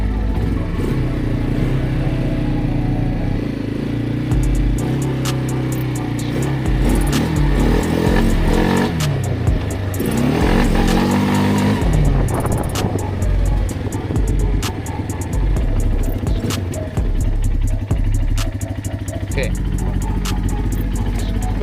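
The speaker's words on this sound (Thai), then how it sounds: "ฟังเสียงดิฮะ เออแบบตามมือเลยครับ เป็นสูบตั้งนะครับ เป็นเครื่องยนต์สูบตั้ง" An ATV's 300cc single-cylinder engine revs up and down repeatedly, loud and close, with a rough, clattering mechanical note throughout.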